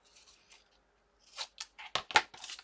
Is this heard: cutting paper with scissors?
yes